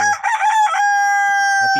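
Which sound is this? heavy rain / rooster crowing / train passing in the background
rooster crowing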